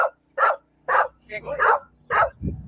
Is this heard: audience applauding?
no